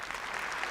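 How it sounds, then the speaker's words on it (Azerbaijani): A brief burst of audience applause at a live saz concert, dense steady clapping from a crowd, heard alone without talk. "Bir alqış nazarla bildirin"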